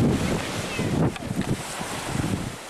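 Ocean waves roll onto a powdery sand beach on a windy day, with steady wind buffeting the microphone and repeated low surges of surf.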